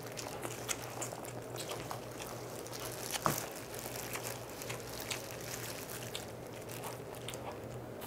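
Kielbasa sausage, ponytail radish kimchi and instant rice are eaten noisily up close, with wet chewing, crunchy bites and smacking sounds over a low steady background hum.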